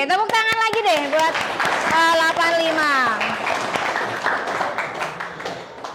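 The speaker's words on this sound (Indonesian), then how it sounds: "tepuk tangan lagi deh buat" Eighth-grade students in a civics classroom clap after chanting together, a scattered patter of hands beneath loud, sing-song children's voices and a teacher's voice.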